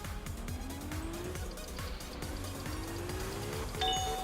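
Engine revs rise and fall as a car drifts in the video game Absolute Drift, with tires squealing through long slides, steady and fairly loud, with no one talking.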